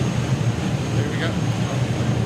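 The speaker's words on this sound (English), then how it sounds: "Wow, the Dragster going." A jet dragster's engine roars at a drag race, a loud, steady broadband blast with a deep low rumble that holds unbroken for the whole stretch.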